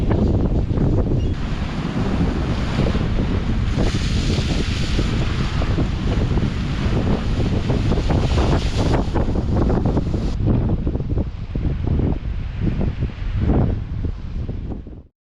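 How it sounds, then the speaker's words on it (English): Strong wind buffets the microphone while waves crash against the rocks of the Anglesey coast, a loud, continuous roar that eases slightly toward the end. "the weather's turned, the wind really getting up, the waves, the spray was actually going over the rods"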